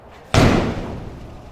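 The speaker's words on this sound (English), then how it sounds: "Full arm circle, into a slam." A medicine ball is slammed hard onto the floor during a split squat slam exercise, giving one loud, sudden thud that rings out and slowly dies away.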